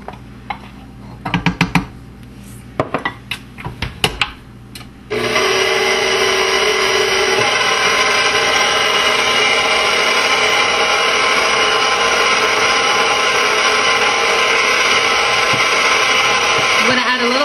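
A dough-mixing machine stirs as flour is added a little at a time. A few knocks and clatters come first, then a loud, steady motor whir runs without a break to the end.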